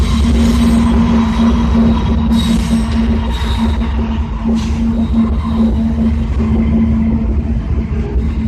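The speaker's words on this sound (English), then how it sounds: "It's a long ass train, y'all." A long freight train rolls past close by, a loud continuous rumble and clatter of wagons with a steady low drone, holding level for the whole stretch without a break.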